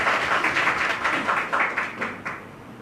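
An audience claps for Biswajit Chowdhury at an online Bengali book fair event. The applause is steady and moderately loud, made of many overlapping claps that fade toward the end, with no talk over it.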